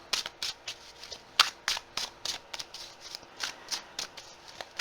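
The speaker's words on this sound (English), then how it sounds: "Want to get a nice good shuffle on these cards" Tarot cards being shuffled by hand, a steady series of crisp riffling bursts about twice a second, close and quiet with no talking.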